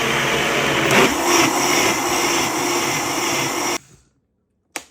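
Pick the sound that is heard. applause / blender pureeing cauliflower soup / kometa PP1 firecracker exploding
blender pureeing cauliflower soup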